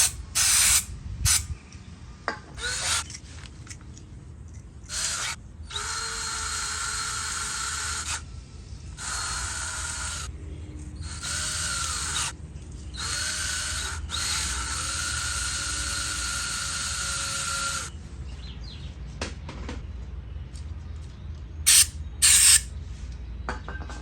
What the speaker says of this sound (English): We can kind of spray it and pull it out some so we don't make a mess.